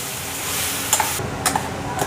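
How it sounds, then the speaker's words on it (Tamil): Ajwain (karpooravalli) leaves sautéed with salt in a pan over low flame give a steady close sizzle, broken by a few brief scraping stirs near the end. "நல்லா வதக்கிக்கோங்க"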